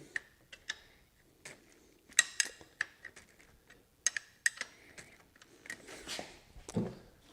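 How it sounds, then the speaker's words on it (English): Ratcheting wrench working a bolt loose on a 2006 Chevy Impala 3.5 L engine, giving quiet irregular sharp clicks, some in quick clusters, close by with no talk. "we'll just break that bolt loose"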